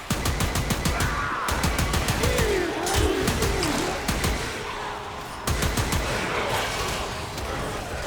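Rapid automatic gunfire bursts from a Warframe weapon, crackling in fast repeated volleys with short pauses, loud and dense, while a player talks underneath.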